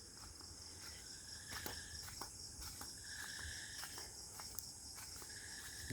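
Crickets chirping on a monsoon night, a dense continuous trill close by with faint taps and rustles underneath, steady and fairly quiet throughout.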